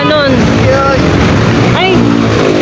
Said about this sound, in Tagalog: Ayun, ito yung motor natin.